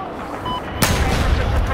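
A single sharp, loud video game sniper rifle shot cracks out partway through, followed by a rumbling rush of explosive noise amid a busy battle soundscape.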